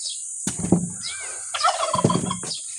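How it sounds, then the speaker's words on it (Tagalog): A turkey gobbles close by, loud rattling calls in two or three bursts over a quiet farm background. "Okay, pabo."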